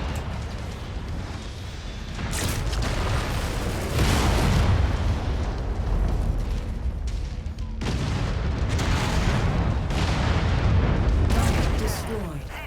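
In the MechWarrior 5 video game, a mech is destroyed in heavy explosions, with deep booming blasts and rumbling roars that swell and fade twice over a dense background of combat noise.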